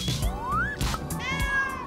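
A kitten meows several times in short rising and falling calls, clear and close, with no talking over it, amid a cheerful play scene with LOL OMG dolls.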